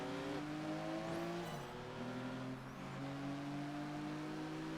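A race car in Project Gotham Racing 4 that brakes poorly, its engine holding a high steady whine that shifts pitch through gear changes and braking, with a faint tyre squeal, loud and close, no talking.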